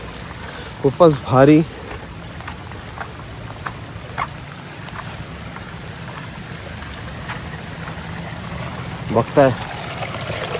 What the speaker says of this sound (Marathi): आणि पाण्याचा आवाज